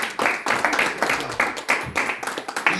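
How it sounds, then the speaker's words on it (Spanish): A church congregation claps in a brisk, uneven rhythm, many hands close by forming loud pulsing bursts across a few seconds. "démonos un aplauso"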